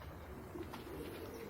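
A racing pigeon gives a soft, low cooing close by, quiet and steady over a brief stretch.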